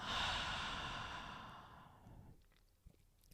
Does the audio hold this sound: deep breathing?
yes